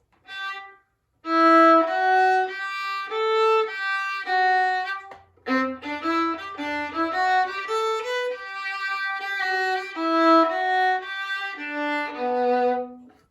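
A solo fiddle plays a lilting waltz phrase, bowed notes rising and falling in steady triple time, close and clear with a brief pause early on.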